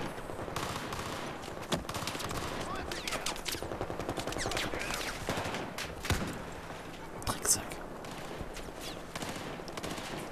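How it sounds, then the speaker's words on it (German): Rapid gunfire from the video game Battlefield 4, bursts of automatic weapons and single shots rattling continuously throughout, with a player talking over the shooting. "Und wer schießt denn da immer?"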